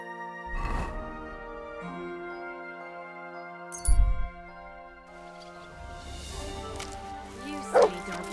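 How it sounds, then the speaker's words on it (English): A dog in Kingdom Come: Deliverance II gives several separate barks and yips, spaced a few seconds apart. A steady game soundscape and faint voices run underneath. "You silly doggy."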